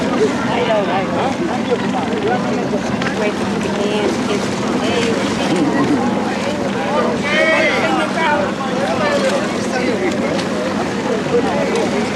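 A small dinghy with an outboard motor carries a group into a sea cave off the Italian coast, its engine a continuous rumble under constant wind and water noise, with people chattering throughout.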